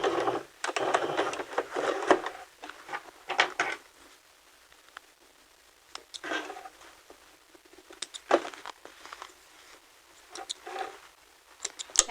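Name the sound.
sewing machine stitching and back stitching a skirt facing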